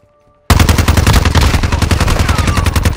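Loud, sustained automatic gunfire in the Modern Warfare team deathmatch multiplayer game, with rapid continuous shots bursting in after a brief quiet start and rattling on without pause.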